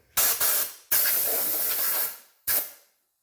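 Compressed air blasts from a nozzle into the air cleaner duct of a John Deere 3720 tractor, three loud hissing bursts, the middle one held longest, close by with no talking.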